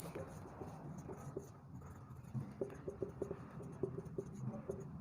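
Chalk or marker writing values on a classroom board, faint short scratchy strokes tapping out in quick irregular bursts, quiet and close with little else around.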